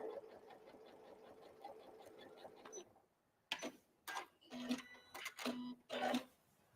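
A sewing machine tacks down a seam on an apron, running with a soft steady whir before falling quiet, then short bursts of stitching and clunks follow in uneven stops and starts.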